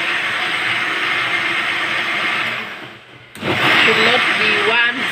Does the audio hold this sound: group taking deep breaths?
no